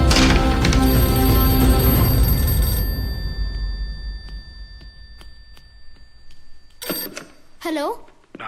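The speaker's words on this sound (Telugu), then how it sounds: "నాన్న నీకే ఫోన్." A telephone rings repeatedly in a household, the tones quieter and more distant after a loud stretch of dramatic music, and a short bit of speech follows near the end.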